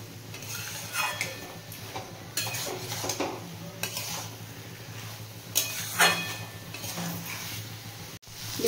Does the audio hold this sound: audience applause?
no